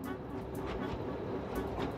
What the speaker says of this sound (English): None have come quite as far as the train itself.